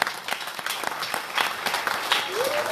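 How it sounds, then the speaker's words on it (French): Wedding guests applaud the couple at a church celebration, a steady wash of clapping that runs the whole stretch at moderate loudness, with a brief voice or cheer rising near the end. "J'aimerais qu'on acclame pour eux, ils sont là nombreux."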